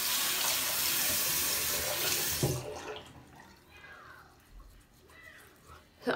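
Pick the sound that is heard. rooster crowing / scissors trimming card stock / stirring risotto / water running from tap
water running from tap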